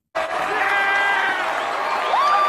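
Students burst into loud cheering, whoops and shouts after a magic show, a sudden dense crowd roar that sustains with high yells rising over it.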